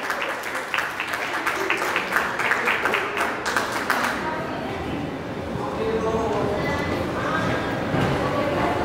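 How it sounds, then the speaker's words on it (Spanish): Audience applause at a presentation by a writer, a burst of many hands clapping up front for about four seconds, then fading into a softer crowd wash with murmuring. "Fuerte el aplauso"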